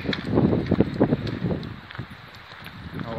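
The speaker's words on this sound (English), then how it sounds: "Oof, that wind." Strong wind gusting across an open hillside path at Whinlatter on a winter day, a broad continuous roar with buffeting surges, loudest early on and easing slightly, with no talk over it.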